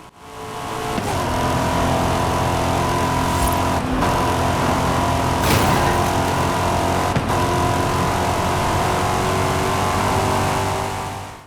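Race car engine in the video game Need for Speed Heat, a loud, sustained roar with steady revving and brief gear-shift dips, alone without talk.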